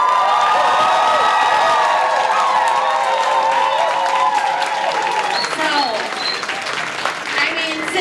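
A crowd at a ball applauds and cheers continuously, with dense clapping, whoops and shouts filling the space. Voices rise over the noise.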